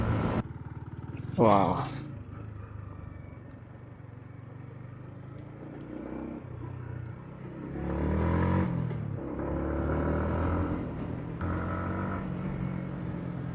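A motorcycle rides along a village road in rural Malaysia, its engine a steady hum with a swell of revving midway, while someone talks over it throughout.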